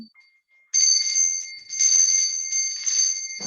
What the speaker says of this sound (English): Do a little bell ringing.